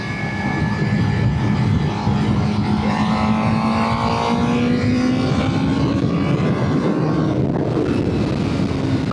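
A Suzuki GSX-R 600 sport motorcycle downshifts and then accelerates, its engine note rising in a smooth sweeping whine over steady wind and road rumble, close and loud.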